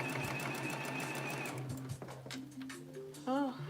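A sewing machine runs steadily as it stitches a piece of fabric during a home sewing session, its whirring motor filling the first second and a half before stopping and restarting in shorter bursts, with voices heard over it.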